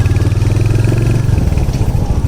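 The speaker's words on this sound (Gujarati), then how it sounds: "બાઇક જઈ રહ્યું છે અત્યારે 40ની સ્પીડમાં." A Royal Enfield Hunter 350 motorcycle cruises at around 40 km/h, heard from a chest-mounted rider's position: a loud, steady, close engine rumble with a throbbing exhaust beat and wind noise throughout.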